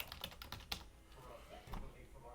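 Quick keystrokes patter on a computer keyboard in short bursts, close and fairly quiet, with a faint voice murmuring in the background.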